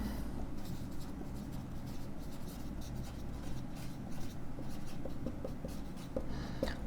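Pen writing on paper during a classroom lesson, with soft continuous scratching strokes close by over a low room hum, no voices.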